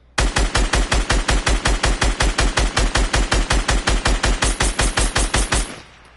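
Rapid automatic gunfire from a video game weapon, a long unbroken burst of about thirty evenly spaced loud shots fired at an opponent, stopping abruptly near the end with no talking.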